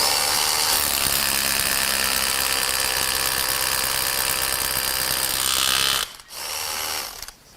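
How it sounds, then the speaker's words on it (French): A rotary hammer with a masonry bit drills into stone, a loud continuous rattling hammering grind that runs steadily for about six seconds, then cuts out briefly and restarts more softly. "je perce avec le perforateur et la mèche à béton pour percer la pierre"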